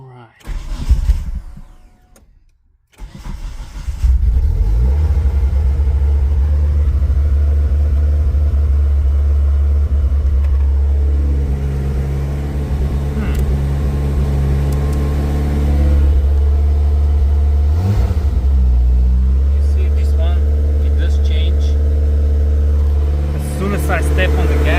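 Engine of a Mitsubishi Eclipse 2G GSX under restoration turning over, catching, and settling into a steady, loud idle, with gentle rises in revs as the throttle is pressed and eased off.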